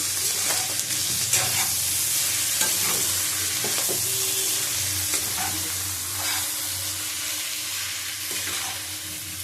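Chowmein with chicken and gravy is stirred in a hot pan, giving a continuous moderate sizzle broken by repeated scraping and tossing strokes at an uneven rhythm.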